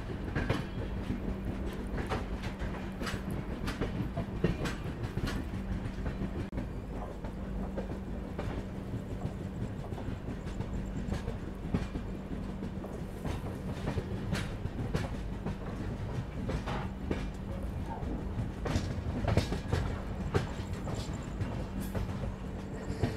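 Steady rumble and rhythmic clickety-clack of the 22944 Indore Daund Express running on rails, heard from inside a 2AC coach, continuous and fairly loud with faint wheel squeal at moments.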